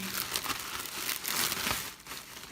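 Rustling and crinkling of a large plastic bag as hands rummage through its contents, close and fairly loud, with irregular bursts of crumpling throughout.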